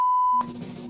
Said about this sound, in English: The beep is back.